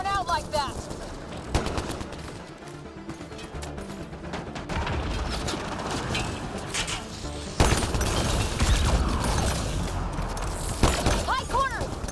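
Bursts of gunfire and shattering impacts rattle through a Mass Effect Andromeda firefight, with loud shots at the start and middle and shouted voices in between.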